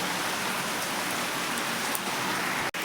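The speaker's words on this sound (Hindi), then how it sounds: "कितनी ज़्यादा बारिश हो रही है" Heavy rain pours steadily over Banaras, a dense, continuous hiss close by with no voices, broken by a brief dropout near the end.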